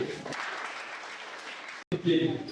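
Children applaud in a classroom at an environmental education club in Ziguinchor, a fairly soft patter of clapping that runs for nearly two seconds, breaks off suddenly, then gives way to talking.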